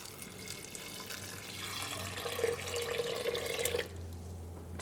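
Water poured or running into a pot of Kerala-style raw plantain and dal curry, a steady close splashing stream that stops abruptly near the end, with a low kitchen hum underneath.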